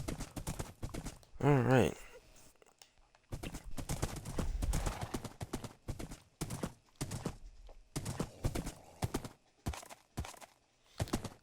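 Horse hooves clip-clop in Minecraft, a steady trot that stops and starts in short runs, while someone talks casually over much of it.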